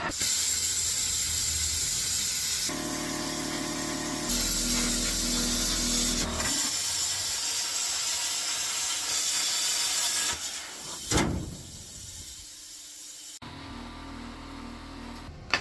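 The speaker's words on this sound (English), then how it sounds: "I'm going to just nip it with my plasma cutter and hopefully it comes apart okay" A plasma cutter slices through the cab wall of a 1946 Chevy truck, giving loud, harsh, airy hissing in several long bursts separated by brief breaks, with a low mechanical hum underneath.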